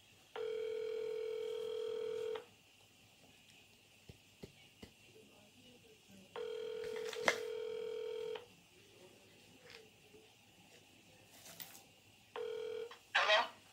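Telephone dial tone and ringback tones for a call back, three long electronic beeps spaced apart with quiet gaps and faint handling noise between them, ending with a short double pulse.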